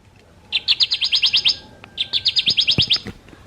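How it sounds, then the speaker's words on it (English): Recorded Kirtland's warbler song from a Wild Republic plush bird toy, two loud, close bursts of rapid, evenly spaced chirped notes separated by a short pause, with faint handling thumps. "Kirtland's warbler."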